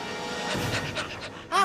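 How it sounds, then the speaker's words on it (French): A cartoon dog pants in quick breathy bursts, fairly close and steady, ending in a brief louder whine-like squeak. "Méchant chien!"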